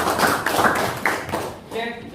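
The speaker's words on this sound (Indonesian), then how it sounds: "tepuk tangan dulu." A class claps hands, a short burst of scattered clapping and taps mixed with voices, fairly close and brief.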